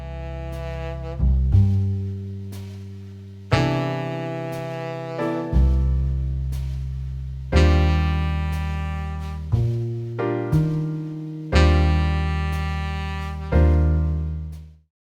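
Jazz backing track over changing chords with the third of each chord held as a long note at the start of each bar, a series of sustained chord stabs that decay evenly, loud and alone.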